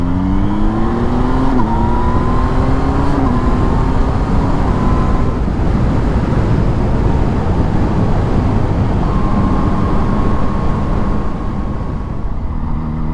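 A 2019 Yamaha MT-07 motorcycle accelerates hard, its engine note climbing and dropping through quick gear changes, loud and close with a constant rush of wind.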